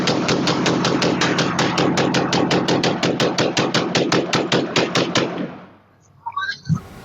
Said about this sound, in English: we are seeing some new surveillance video of two separate drive-by shootings at the very same house